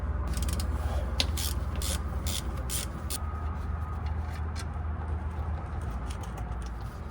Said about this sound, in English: we're going to loosen the banjo bolt right here for the oil feed line